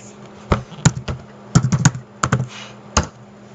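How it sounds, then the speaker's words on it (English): Someone types on a computer keyboard at close range, with irregular bursts of sharp key clicks separated by short pauses. "I can display that by typing in a.shape"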